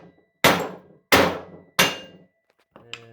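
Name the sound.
hammer hitting mower deck spindle shaft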